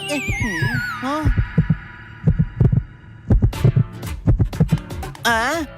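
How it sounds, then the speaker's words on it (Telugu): Cartoon heartbeat thumps in a steady rhythmic pattern of soft, deep double beats, interrupted by sliding whistle-like cartoon effects at the start and end. "నా హార్ట్ బీట్ విను."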